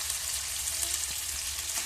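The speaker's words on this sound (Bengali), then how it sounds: "এটা হাই ফ্লেমে ভাজা যাবে না, লো ফ্লেমে ভেজে নিচ্ছি।" Cornflour-coated chicken pieces for chilli chicken fry on a low flame, giving a soft, steady sizzle and gentle crackle in oil, close and continuous with no voices.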